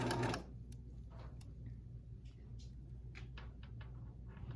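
A sewing machine stitches bias tape over a fabric edge as a seam finish, a low steady mechanical hum running throughout with a louder burst at the start and scattered light clicks of handling fabric.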